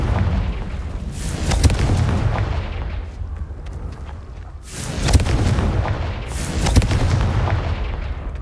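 Explosive Confringo spell bursts in Hogwarts Legacy: loud, heavy booms with crackling debris, several blasts swelling and fading in waves, with no voices.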